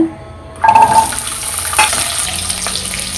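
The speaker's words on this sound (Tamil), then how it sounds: "கொஞ்சம் எண்ணெய் சேர்த்துக்கலாம் கொஞ்சம் சாம்பார் வெங்காயம் சேர்த்துக்கலாங்க" Small sambar onions hit hot oil for a vegetable curry, bursting into a loud sizzle that then settles into a steady, close crackle.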